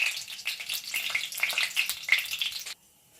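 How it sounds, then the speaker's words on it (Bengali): Bay leaves, dried red chillies and whole garam masala crackle and sizzle in hot oil for a Bengali fish kalia, a dense close-up spitting hiss that runs steadily then cuts off abruptly near the end. "এরপর এই তেলের মধ্যে আমি তেজপাতা দিয়ে দেব, শুকনো লঙ্কা আর কিছু গোটা গরম মশলা।"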